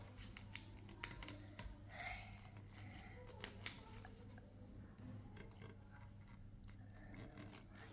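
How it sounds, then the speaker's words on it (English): Paper being folded and creased by hand for a jumping paper frog craft, soft scraping and rustling strokes repeating over several seconds, close by, with a low steady hum underneath. "You have to fold your paper like this."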